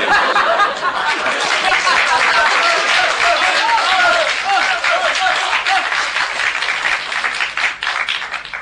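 Audience at a Chinese crosstalk performance breaking into loud, sustained applause with scattered laughter, the clapping dense and close before slowly thinning toward the end.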